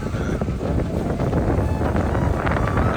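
Strong wind at sea buffets the microphone in a steady, loud rumble throughout, during a fishing trip off Dubai, with no voices.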